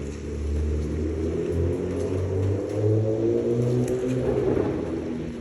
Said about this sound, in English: There's a little Focus ripping around, having some fun in the rain.